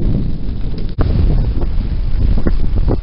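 Strong wind buffets the microphone while waves slosh and splash against a moving sailboat hull, a steady roaring wash with no voices.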